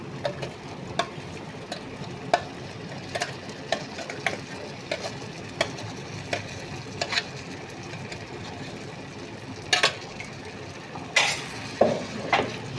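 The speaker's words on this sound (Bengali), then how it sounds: "সবগুলো উপকরণকে খুব ভালোভাবে নেড়ে চেড়ে মাখিয়ে নিতে হবে" Hog plum peel paste stirred with lightly fried mustard paste and garlic in a pan, a steady soft sizzle broken by regular clicks and scrapes of the spoon, louder knocks near the end.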